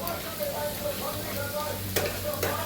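Asafoetida and diced potatoes fry in hot oil with a steady close sizzle under a low hum, marked by a couple of brief utensil taps near the end.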